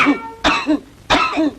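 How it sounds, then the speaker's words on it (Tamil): A person coughs twice in quick succession, each a harsh, close, voiced burst, in a scene from a Tamil film. "என்ன இருமல்?"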